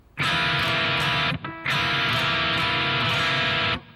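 Distorted electric guitar strumming the opening chord of Velvet Revolver's Sucker Train Blues, loud and close, one long sustained strum, a brief cutoff gap, then another ringing strum before stopping.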